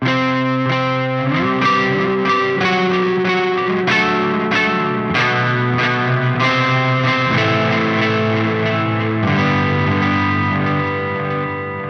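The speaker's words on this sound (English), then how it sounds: "Standard delay, digital, nothing fancy going on there." Distorted electric guitar chords ring out in a steady sequence through a standard digital delay, each one smeared by repeating echoes and a shimmering chorus, loud and with no voices.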